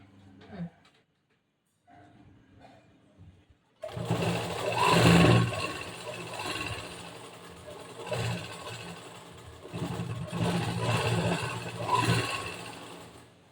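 Sewing machine stitching the side fitting of a blouse, quiet handling at first, then a steady close mechanical whir from about four seconds running in continuous bursts with no speech.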